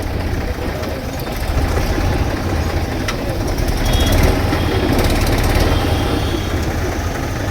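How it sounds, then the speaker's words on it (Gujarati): Steady, loud tractor engine idling nearby with a constant low rumble and rattle, running without variation and no voices present. "ટ્રેક્ટર કરી દીધું બંધ."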